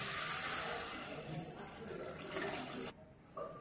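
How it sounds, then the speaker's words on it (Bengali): Water is poured into a pan of fried vegetables for a homemade vegetable soup: a steady, close rushing pour that stops abruptly near the end, followed by a brief quieter pause. "ভাজা হয়ে গেছে, এই পর্যায়ে আমি কিন্তু পানি অ্যাড করবো।"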